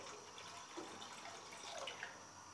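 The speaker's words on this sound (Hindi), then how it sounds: "तो हम यहाँ पर तीन कप पानी डालेंगे" Water poured from a vessel into a cooking pot before boiling peanuts, a steady close-up splashing trickle with faint drips, heard alone for a couple of seconds.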